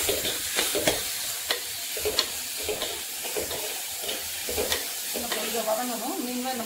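Onions sauté in a pan for a South Indian meal, a continuous soft sizzle broken by repeated scraping stirs at an irregular rhythm, fairly close, with no talking.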